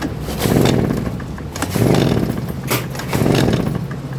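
A Craftsman 46cc backpack blower, suspected of a bad carburetor, runs at full throttle close by, its engine surging in three rising and falling waves instead of holding steady.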